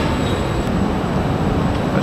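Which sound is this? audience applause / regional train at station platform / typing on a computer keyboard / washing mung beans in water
regional train at station platform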